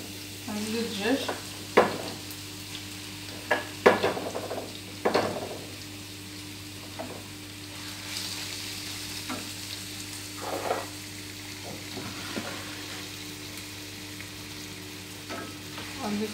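Chicken pieces tipped into softened fried onions in a pan and stirred, a constant close sizzle with a few clustered spoon clanks early on, then quieter frying.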